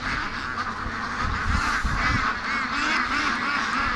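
A flock of free-range ducks quacking and honking together in a loud, continuous chorus, close by and overlapping, while being herded to a lake.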